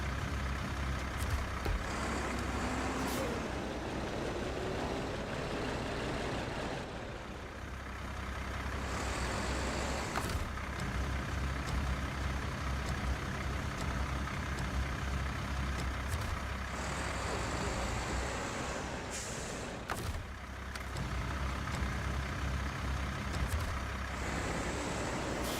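A Mack truck engine drones steadily and fairly loud throughout, with a continuous low rumble and road noise, with several brief sharp bursts of louder sound at intervals.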